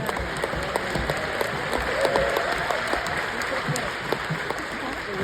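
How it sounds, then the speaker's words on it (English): An audience applauds Ted Nolan with a steady, dense patter of clapping that holds at an even level throughout, with a few voices mixed in. "About another round of applause for Ted Nolan"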